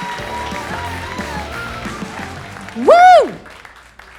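Applause from a comedy boot camp class show audience greeting a stand-up performer, with a single loud whoop rising briefly over the clapping as a host's voice speaks beforehand.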